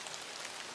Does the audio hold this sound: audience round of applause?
no